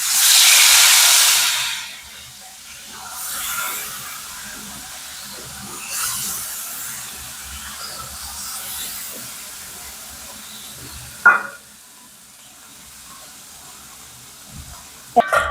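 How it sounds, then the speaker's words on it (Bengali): Bata fish slide into hot oil with a loud burst of hissing sizzle that quickly fades to a quieter, steady frying hiss with soft crackles and a few utensil knocks. "এবার আমরা এই গরম তেলেই মাছগুলো দিয়ে দেবো।"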